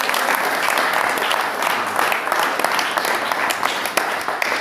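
A church congregation claps together during a service, a loud, busy patter of many hands with sharper individual claps popping through, sustained evenly throughout.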